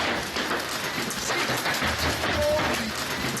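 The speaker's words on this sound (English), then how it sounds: "There is thunder, lightning, and golf ball size hail." Dense, steady pelting of hard impacts, loud and continuous like heavy hail drumming on surfaces, with a broad roaring hiss throughout.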